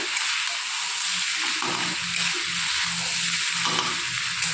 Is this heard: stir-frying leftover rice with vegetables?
yes